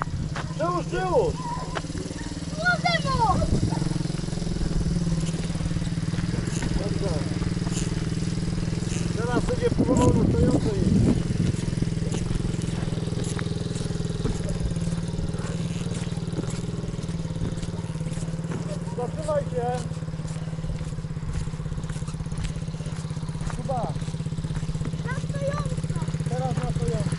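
A dirt bike engine drones and revs steadily at a distance, with excited shouting voices over it now and then.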